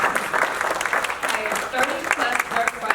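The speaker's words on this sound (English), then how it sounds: "I think that just deserves a round of applause" An audience claps for an organization serving over 7,000 students, steady, dense applause filling the room for about three seconds with a few louder bursts and some voices mixed in.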